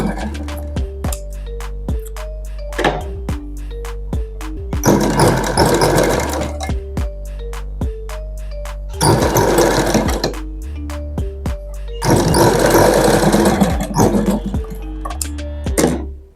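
A sewing machine stitches a blouse with Aari work, running in three loud, sustained whirring bursts separated by quieter stretches of ticking and clicking as the fabric is adjusted, close up and without speech.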